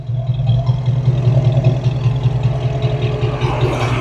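A Foxbody Mustang sits idling with its cooling fan running, a steady low droning hum with a constant whir layered over the engine, continuous and fairly loud throughout.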